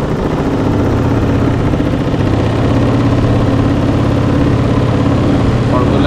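Engine of a remade fiber boat speeding up on a river, a loud, steady throbbing drone running continuously close by.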